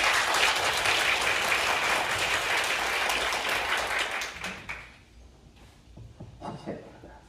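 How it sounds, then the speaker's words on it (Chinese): A lecture audience at a university applauding to welcome a visiting lecturer, dense sustained clapping from many hands for about five seconds before tapering off into scattered claps. "我们是不是用最热烈的掌声来欢迎唐老师"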